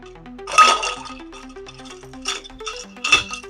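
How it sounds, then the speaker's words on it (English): A spoon stirs a tequila sunrise of tequila and orange juice in a glass, making light clinks and ticks against the glass in two brighter bursts, close and fairly quiet over a faint musical background. "Stir gently."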